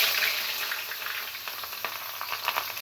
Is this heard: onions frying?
yes